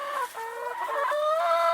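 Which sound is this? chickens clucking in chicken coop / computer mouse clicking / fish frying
chickens clucking in chicken coop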